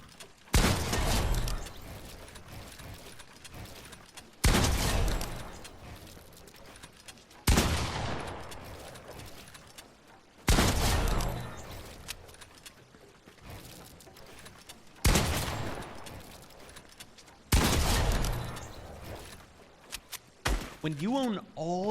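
Gunfire at an enemy sentry in a shooting video game: about seven loud, sharp shots spaced a few seconds apart, each trailing into a ringing decay, with a burst of other noise at the end.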